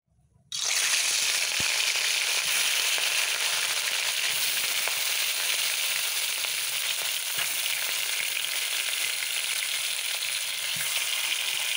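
Rui fish dropped into hot oil in a wok sets off a sudden, loud hissing sizzle that carries on steadily, close by, with scattered small pops and no voices.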